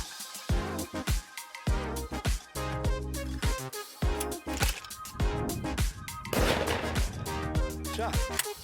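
Shotgun shots fired at clay targets launched by a Caldwell Claymore clay thrower, several sharp blasts spread through the clip with voices talking between them.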